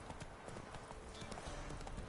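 Roach the horse trots in The Witcher 3, hooves clip-clopping in a quick, even rhythm, soft and close, with no talk over it.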